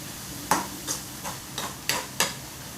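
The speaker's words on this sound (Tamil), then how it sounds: "வெங்காயம், பச்சை மிளகா சாப் பண்ணுது எண்ணெயில் போட்டு வதக்கிக்கிட்டு இருக்கும்போது" Chopped onion and green chilli being sautéed in oil in a pan for a spicy masala egg omelette, with five or six distinct scraping stirs at a steady rhythm over a faint sizzle, close up.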